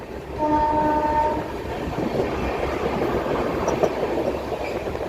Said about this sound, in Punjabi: ਵਿਸਲ ਜਿਹੜੀ ਆ ਰੈਗੂਲਰ ਇਹਨਾਂ ਨੂੰ ਮਾਰਨੀ ਪੈਂਦੀ ਆ